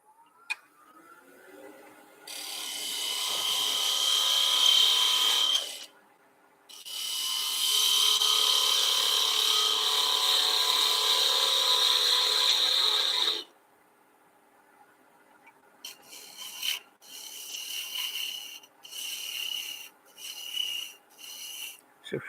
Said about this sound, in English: I'm scraping off the dark part where the parting tool burned it a little bit